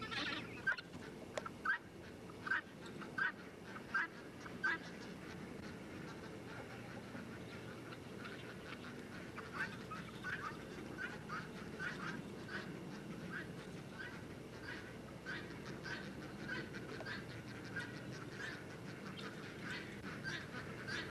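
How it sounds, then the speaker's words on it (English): Ducks and guinea hens call in a busy, continuous chorus, with a few sharper quacks standing out early on against the steady flock noise. "The ducks should be hungry and the goats should be hungry"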